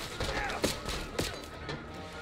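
Gunshots crack in Call of Duty Black Ops 6, a few sharp close shots in quick succession amid game sound and faint talk.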